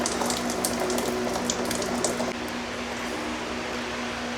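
Coolant draining from the radiator of a BMW E46 330Ci with M54 engine, a steady close splashing and trickling stream with a low hum beneath, easing slightly partway through.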